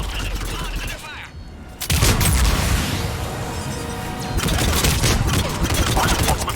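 Dense gunfire crackles through a Mass Effect 3 firefight, with rapid bursts and heavy booms layered into a loud, continuous barrage and a brief lull near the start; voices call out amid the shooting.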